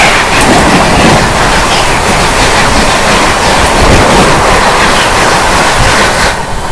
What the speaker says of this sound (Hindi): सामने से आती है दोस्तों 22812 न्यू दिल्ली भुवनेश्वर राजधानी एक्सप्रेस